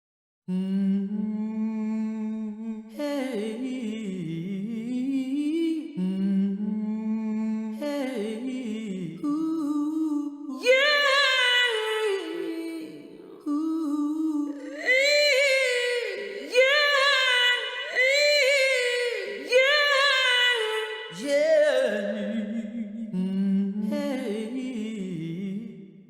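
A sampled soul-style vocal instrument from Composer Cloud sings a smooth, sustained melody with rich harmonics, gliding between notes in phrases that continue without pause.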